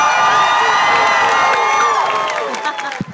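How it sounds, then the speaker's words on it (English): A comic con crowd cheers and whoops loudly for a panel taking the stage, a dense roar of voices with shrill shouts that fades toward the end. "round of applause"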